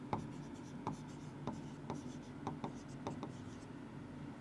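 Pen scratching on paper in repeated short strokes, steady and close, with faint room hum between marks and no speech.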